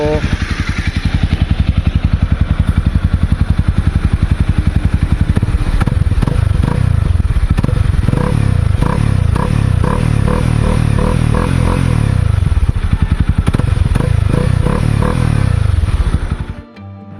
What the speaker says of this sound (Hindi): इसका इंजन क्रैंक करके आपको इसका जो है साउंड सुनाऊंगा